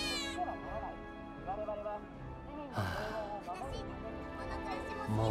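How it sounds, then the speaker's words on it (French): Cat meowing in Final Fantasy VII Remake, several drawn-out mews close by, with a person talking over them and game sounds behind. "Ah, il y a un chat ici."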